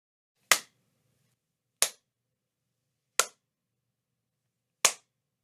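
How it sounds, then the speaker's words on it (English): Four sharp hand claps spaced about a second or more apart in an acoustically treated home recording studio, each a crisp loud snap with a short, quickly fading room tail and no talking. "I'll clap a few times so you can hear the room reflections"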